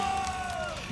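A crowd at an esports event, the CWL Champs 2018 Call of Duty tournament, cheers and roars loudly and continuously, heard at a distance from backstage as a steady wash of voices with a thin whistle-like tone.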